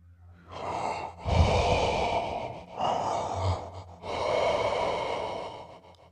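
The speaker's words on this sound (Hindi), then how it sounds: "उसे किसी की सांस लेने की आवाज़ आई।" Heavy, ragged breathing used as a horror sound effect, with three long loud breaths, gasping inhales and sighing exhales, close and alone with no talk.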